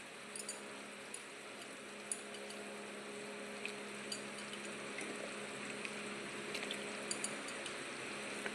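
Fish curry simmering in a covered pot on the stove, a steady low bubbling and hiss running evenly throughout with a few faint clinks, fairly quiet and with no voices.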